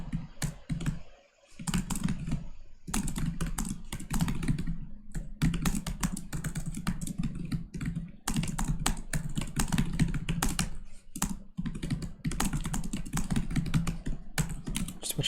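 Rapid, continuous typing on a computer keyboard during competitive programming, loud and close, with dense clusters of key clicks broken by a few short pauses.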